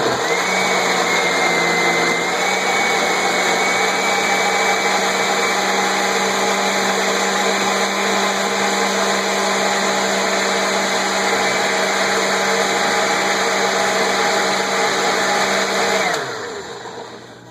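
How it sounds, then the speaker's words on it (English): A blender whipping calendula flowers in oil runs loud and steady for about sixteen seconds with a constant whirring hum, then winds down and stops. "I put this in oil in the blender, and I'm going to whip it up here."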